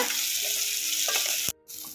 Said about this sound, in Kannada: ಅದಕ್ಕೆ ನಾವು ಒಂದು ಸ್ವಲ್ಪ ಬ್ರೌನ್ ಬರೋ ರೀತಿ ಫ್ರೈ ಮಾಡ್ಕೊಳ್ಳೋಣ